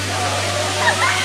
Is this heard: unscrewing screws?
no